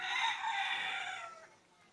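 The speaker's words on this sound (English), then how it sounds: "the sounds of those chickens are" Chickens cluck while a rooster crows in a rural countryside setting, the calls carrying at moderate level for about a second and a half before trailing off, with no talk.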